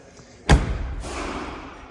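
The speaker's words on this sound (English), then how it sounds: "so passenger door closes nice" The passenger door of a 1985 Mercedes-Benz 380SL shuts with a single solid, close thud, followed by a short, soft rattling settle. A faint voice sounds in the background.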